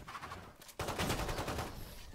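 Video game gunfire erupts abruptly into a sustained rattle of rapid shots, dense and fairly close, fading slightly toward the end with no talking over it.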